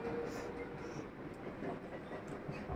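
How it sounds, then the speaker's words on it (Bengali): A train rolls past a house beside the railway line on a morning walk, a steady, fairly quiet rumble of wagons that carries on evenly without talk. "দেখো আবার ট্রেন যাচ্ছে।"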